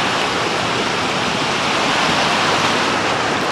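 Mountain water rushes steadily along the Kungsleden trail, a loud, continuous broadband roar close by with no pauses or voices.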